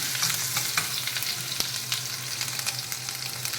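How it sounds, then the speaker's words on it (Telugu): Thinly sliced green chilies sizzle and crackle steadily in hot oil in a pan, a continuous close frying hiss with small pops and no talking. "సన్నగా కట్ చేసిన పచ్చిమిరపకాయలు వేసుకున్నాం."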